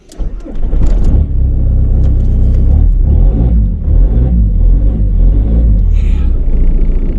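A manual car's engine rumbles loudly and steadily, revving while it pulls away to burn in a glazed clutch, with a sustained low drone throughout and a brief higher squeal near the end.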